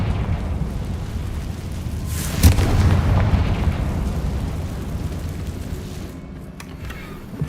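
A Confringo spell blast in Hogwarts Legacy bursts into a loud, rumbling boom that swells and lingers as a long roaring decay, followed by a few small crackles.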